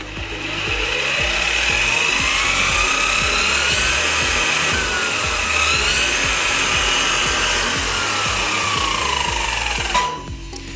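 A VTX Cobra RC car runs on a motor with three differentials. It gives a loud, steady, high electric whine with a rising and falling pitch and ratcheting drivetrain clatter, then cuts off abruptly near the end.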